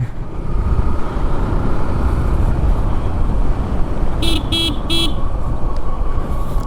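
Loud road traffic rumbles continuously while the stock horn of a modified Suzuki Gixxer motorcycle honks three short times in quick succession near the end.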